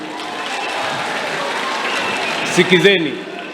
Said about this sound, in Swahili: tuwapigie makofi MCS